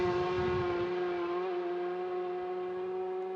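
BMW racing motorcycle during warm-up at the Macau Grand Prix: a sustained, high, whining engine note with strong harmonics holds steady, easing slightly toward the end, with no talk.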